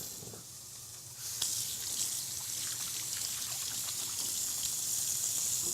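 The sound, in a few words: hands being washed under running tap water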